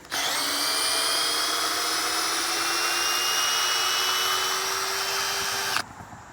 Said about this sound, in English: And now this thing should drill out.